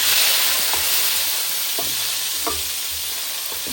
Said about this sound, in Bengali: পেঁয়াজ রসুন বাটাটা একটু কষাবো